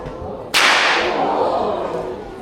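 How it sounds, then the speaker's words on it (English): A stockman's whip gives one sharp, loud crack that rings out and fades slowly, heard alone outdoors at a wildlife park. "This is how we crack the whip."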